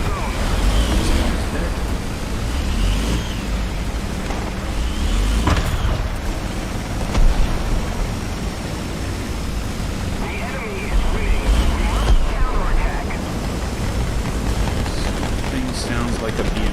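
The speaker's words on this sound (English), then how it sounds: "Sounds like a BMP. Yeah, it's a BMP." A BMP armored vehicle rumbles in War Thunder, a loud steady low engine drone lasting throughout, with surging broadband bursts and possible distant gunfire, while someone talks over it.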